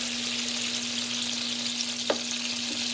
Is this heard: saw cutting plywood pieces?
no